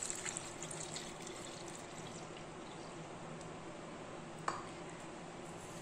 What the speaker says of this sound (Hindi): अब इसमें डालना है हमें दूध।